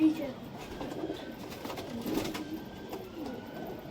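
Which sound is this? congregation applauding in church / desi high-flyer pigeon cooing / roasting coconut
desi high-flyer pigeon cooing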